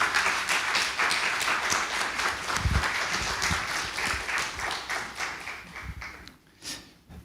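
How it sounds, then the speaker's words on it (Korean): Church congregation clapping to welcome a pastor to the pulpit during Sunday worship, a steady wash of applause that thins and fades toward the end, with a few louder claps and knocks near the close. "우리 박성진 목사님 나오실 때 큰 박수로 환영하겠습니다."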